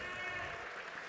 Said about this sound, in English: Max Decker getting a nice round of applause.